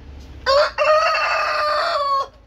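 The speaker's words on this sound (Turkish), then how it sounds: "Canavar horozlarımız burada." A rooster crows loudly and close by, one long drawn-out call lasting nearly two seconds, with no other voices.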